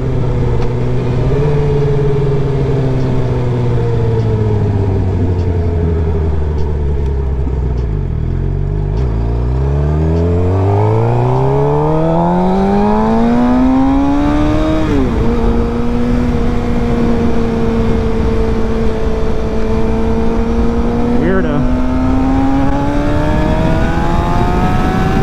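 A 2011 Suzuki GSX-R750 motorcycle accelerates hard, its engine note rising steeply, dropping at each gear shift and climbing again through several gears, loud and close throughout.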